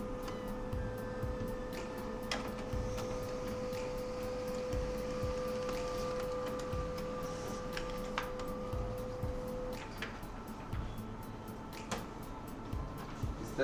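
A courier order label printer runs in an office, giving a steady stream of soft ticking clicks and faint mechanical whirring over a low room hum, with a sustained electronic tone for much of the time.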